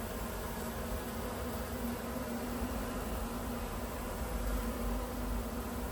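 A honeybee swarm hums in a bucket trap, a dense, steady buzz that stays even and close throughout without pause.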